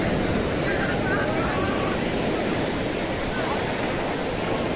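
Sea waves wash continuously onto Calangute Beach in Goa in the early morning, a loud, broad, unbroken surf roar mixed with wind buffeting the microphone.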